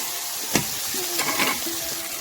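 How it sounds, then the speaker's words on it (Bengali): Spices with turmeric powder being stirred in a hot pan for a thin rui fish curry, a close, steady sizzle with a few scraping strokes and no talking. "এবার দিয়ে দেব হলুদ গুঁড়ো, দিয়ে ভালো করে নেড়ে"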